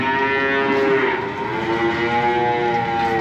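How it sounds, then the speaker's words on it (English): Nine-month-old heifers in a sand-bedded freestall barn, with loud overlapping moos and bellows from many animals, sustained and close throughout. "these heifers are about 9 months old. They're really making a lot of noise here"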